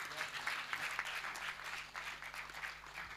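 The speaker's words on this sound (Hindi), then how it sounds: "एक बार तालियां बजा दीजिए।" Audience applause at a Hindi poetry gathering (kavi sammelan), a steady, moderately loud wash of clapping lasting a few seconds with no break.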